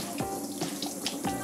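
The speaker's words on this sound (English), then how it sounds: "you want to get the pad wet with soft tap or distilled" Soft tap water runs and splashes onto a GrooveWasher record cleaning pad, a steady close trickle broken by several brief spattering bursts as the pad gets wet.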